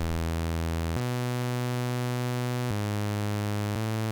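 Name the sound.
synth bass line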